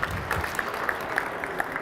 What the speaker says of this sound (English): please give a round of applause for Janette Kothe.